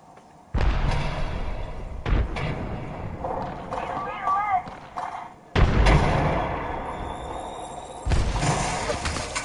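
A frag grenade goes off in a video game, with loud bursts of booming and gunfire arriving in several sudden waves and a voice talking between them.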